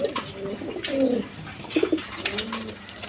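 Domestic pigeons, birds offered for sale at a market, coo close by in a few soft, throaty rolling phrases, with faint chatter and rustling in the background.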